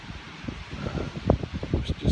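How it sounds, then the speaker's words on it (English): Gusty wind buffets a microphone outdoors at a lake, rumbling in uneven low bursts that swell and fall across the short stretch. "It is so windy out here, it's like unbelievable how bad it is."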